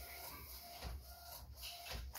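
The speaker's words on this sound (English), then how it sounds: "But as you can see, I got it printing again." A DTF printer printing direct-to-film transfers gives off a continuous mechanical whir with rhythmic shuttling sweeps, steady and fairly close, with no voices.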